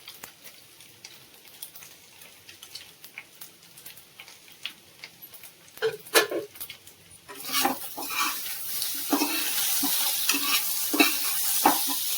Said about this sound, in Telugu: చారులోకి ఒక 4 చిల్లీస్, ఓ టమాటా అయితే యాడ్ చేసుకుందాం.